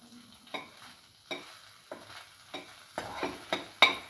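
Shallots cooking with salt in a pan, with a soft sizzle under a series of spatula scrapes and stirs at a steady rhythm, close and fairly quiet.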